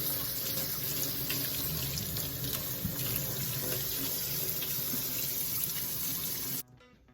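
Water runs steadily from a tap during a loc wash, a constant close rushing spray heard alone, cutting off abruptly just before the end.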